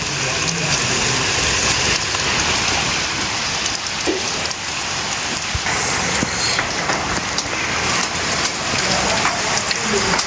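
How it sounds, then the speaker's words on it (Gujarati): Heavy monsoon rain pours steadily in Ahmedabad, a dense, loud hiss of drops hitting surfaces with occasional sharper splashes. "ગાઈસ અમદાવાદ બાજુ ફૂલ વરસાદ છે"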